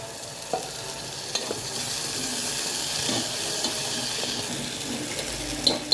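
Spiced coconut-onion paste for a Marathi masvadi curry roasting in a pan on a gas stove over low flame, with a steady close sizzle, faint spoon scrapes and occasional clinks, no talking.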